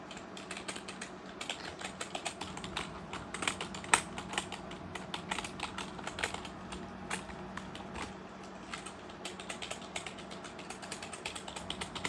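Rapid keystrokes clatter on a Chonchow mechanical keyboard, a steady close patter of clicky taps with occasional heavier presses, played alone without talk.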